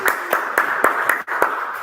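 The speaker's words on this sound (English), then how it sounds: "please again give big applause to Toastmasters" Small audience at a hotel conversation session clapping, about seven distinct sharp claps spaced in a slow, even rhythm, fairly close, with a brief dip near the end.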